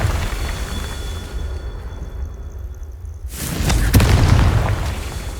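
Confringo spell explosion in Hogwarts Legacy during a goblin battle: a low rumble drops away, then a sudden loud boom bursts in and rolls on as a heavy, noisy blast.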